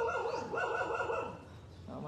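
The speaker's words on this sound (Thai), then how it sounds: "หมาก็เลยเห่าแกไม่เลิกแกก็ยังยืนอยู่ที่เดิม" A dog barking outdoors near a monk's residence, a few quick yapping barks close by with voices talking underneath.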